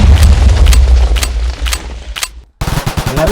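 Bazooka explosion in the Minecraft video game, a series of loud repeated booming blasts with heavy low rumble, ending in a brief silence before more bursts follow.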